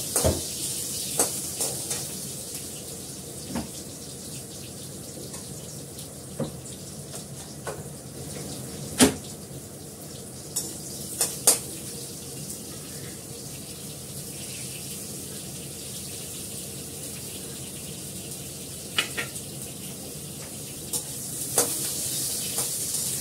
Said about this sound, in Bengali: বেগুনটাকে হালকা করে ভালো ভেজে নিই।